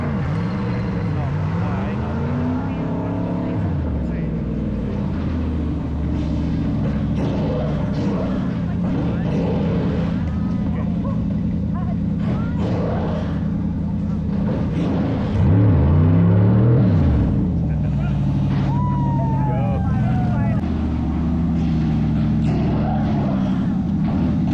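A car launching hard at a Ford Performance event, engine revs rising and falling in sweeping waves over a steady rumble, with people talking and crowd noise throughout and a louder surge near the end.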